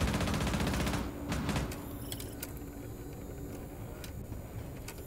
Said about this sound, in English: This frost keeps shooting.